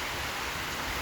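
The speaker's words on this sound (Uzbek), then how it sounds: "juda qattiq shamol" Very strong wind with rain blows outdoors in Andijan, a steady broadband rushing noise that stays fairly faint and even throughout, with no voices.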